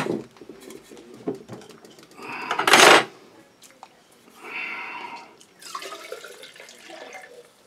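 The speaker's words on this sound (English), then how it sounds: "Now we make it up to 500 mils with cold water." Cold water splashes from a tap into a 500 ml measuring jug while a film developer is made from raw chemicals. A loud burst of pouring near the middle, with softer trickles and small knocks before and after.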